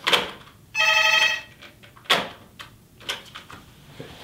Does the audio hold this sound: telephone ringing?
yes